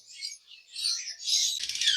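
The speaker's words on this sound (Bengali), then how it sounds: "এখানে খুব সুন্দর এক জোড়া পার ব্লু ইউইন লাভবার্ড পাখি আছে" A pair of parblue ewing lovebirds gives high, thin chirps and twittering calls, close and fairly soft, running continuously for a couple of seconds.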